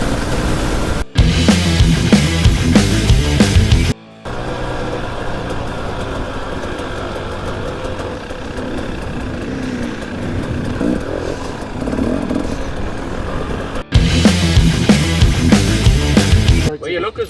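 A group of enduro motorcycles rolls out, loud revving bursts near the start and end framing a quieter stretch of idling and distant engine drone.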